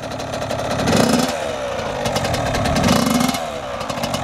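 A Yamaha YZ85 dirt bike engine buzzes and revs close by, its pitch rising and falling in two throttle blips as the clutch is let out, loud and raspy throughout.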